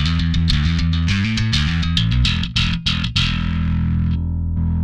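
A bass guitar runs through a Darkglass distortion pedal with the blend turned fully up, a loud, thick, gritty riff of punchy notes that ends on a sustained ringing chord.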